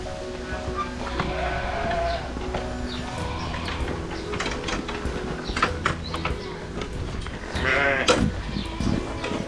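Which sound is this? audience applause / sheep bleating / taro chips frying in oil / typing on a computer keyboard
sheep bleating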